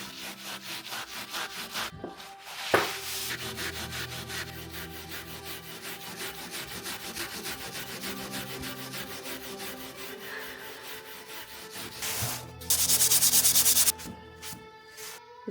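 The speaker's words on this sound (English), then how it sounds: "now I'm gonna go in with a metal scrub brush and try to clean this up" A metal scrub brush scours the rusty top of an old wood stove in an abandoned cabin, a steady rasping back-and-forth rubbing close up with a sharp knock early on and a louder, harsher burst of scrubbing near the end.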